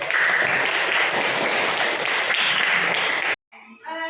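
A school class applauding a student group, steady dense clapping that cuts off abruptly near the end, followed by a brief voice.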